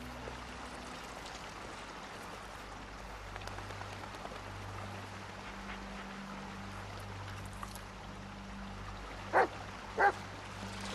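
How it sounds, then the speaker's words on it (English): Two quick dog barks ring out near the end of a dark forest scene in the Blair Witch video game, set against a steady hum and soft rain-like ambience. "This dog is crazy."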